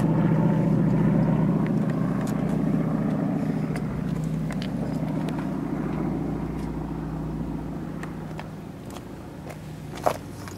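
A 1954 Jaguar D-Type factory team race car idles and pulls away with a deep, steady engine rumble that slowly fades, followed by scattered clicks and a sharp knock near the end.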